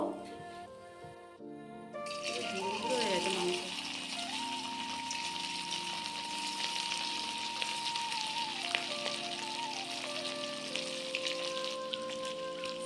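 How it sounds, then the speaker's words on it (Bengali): Chicken pieces hit hot oil in a kadai and break into a loud, steady sizzle that carries on evenly, with a faint tonal hum in the background. "তেলটা খুব ভালোভাবে গরম করে নিয়েছি এরপর মাংস দিয়ে দেবো"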